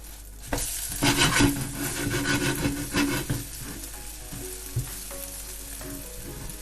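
A bread omelette fries in a pan with a soft sizzle, a burst of scraping and stirring from a spatula early on, then quieter sizzling with a few light taps.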